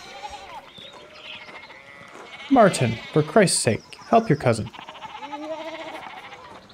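Sheep bleat in several short wavering calls from a farm pen in the game Pentiment, heard close and mixed with a man's speech.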